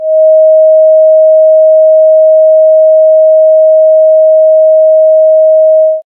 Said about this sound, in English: And now, 630 hertz.